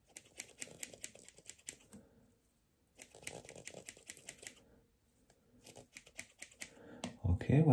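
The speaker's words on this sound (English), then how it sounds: "let's continue with my second scissors" Scissors snip during an ASMR barber roleplay, with bursts of quick, crisp cutting clicks close to the mic, separated by short pauses; a louder rustle comes at the end.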